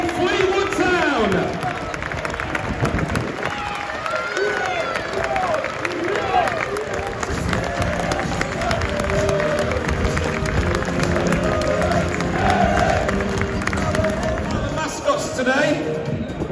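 A stadium crowd at a Fleetwood Town football match cheers and applauds loudly and continuously as the team is welcomed, with a voice speaking over the roar.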